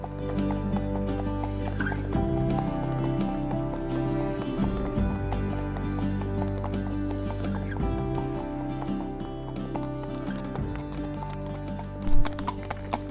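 Ventasso horses' hooves clip-clop steadily at a walking pace on a trail ride in Italy, several animals moving together, with occasional creaks and a brief louder knock near the end.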